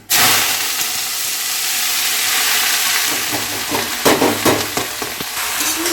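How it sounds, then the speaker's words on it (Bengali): Shredded cabbage frying in a pan in a home kitchen, a loud continuous close sizzle with spatula scraping and stirring strokes growing more frequent toward the end. "বাঁধাকপিটা নাড়া করে একটু ভাজা ভাজা করে নেবো"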